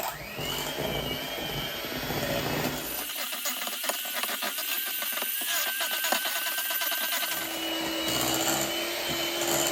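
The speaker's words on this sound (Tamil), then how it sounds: "ரெண்டே நான் பீட்டரால் அடிக்க போகிறேன்." An electric beater whisks eggs in a bowl for coconut date cake, a continuous close motor whir with a faint rattling texture that runs the whole time without talk.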